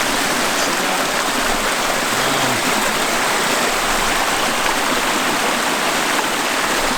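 A Vermont brook flowing steadily, a dense continuous rush of water close by, even and loud throughout with no voices.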